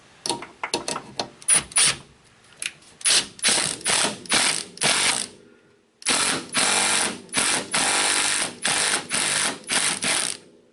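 A ratchet wrench clicks rapidly in repeated bursts, tightening stabilizer link nuts on a 2000 Honda Civic EX, close and loud with a brief pause midway.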